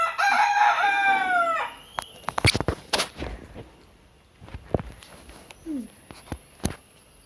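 A rooster near a house lets out one loud, drawn-out crow at close range, followed by scattered knocks, thumps and faint bird calls in a quieter yard.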